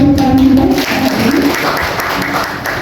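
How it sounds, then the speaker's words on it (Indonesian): An audience applauds a panelist at a school in-service event in Banyumas, a loud dense wash of clapping with a voice briefly audible under it near the start. "Beri tepuk tangan juga."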